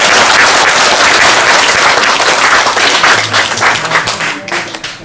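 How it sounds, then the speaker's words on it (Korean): Applause from the audience at a Buddhist temple ceremony in Canada, dense and loud at first, then thinning out and fading toward the end. "큰 박수로 맞아주시면 감사하겠습니다"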